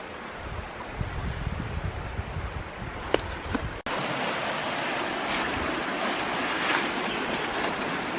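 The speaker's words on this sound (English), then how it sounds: "Really nice cascades here." Rushing water from forest cascades pouring over boulders below a bluff line in Bankhead National Forest, Alabama, a steady broadband roar, with a brief pause and a couple of sharp knocks partway through.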